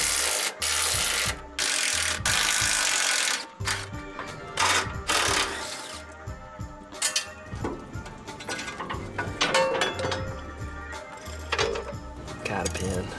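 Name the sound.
wrench loosening sway bar nuts on Ford Econoline van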